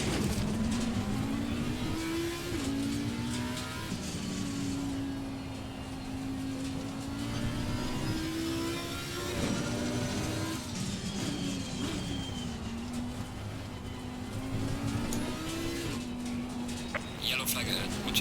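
A Porsche race car lapping the Nürburgring in Assetto Corsa Competizione, a continuous close engine drone rising and falling through gear changes, with a voice talking over it at times.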